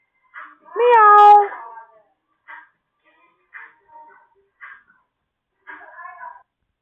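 A caller on a phone line imitates a cat with one long, drawn-out meow followed by several shorter, quieter mewing sounds spaced a second or so apart, all close and thin-sounding.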